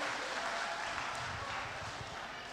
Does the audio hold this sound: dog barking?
no